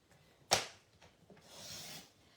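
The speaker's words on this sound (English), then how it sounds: "all we're going to do is just trim down the side on both sides" A paper envelope being trimmed down its sides with a blade, a sharp single snip followed by a soft faint scrape and a longer quiet rasping slide, close and isolated.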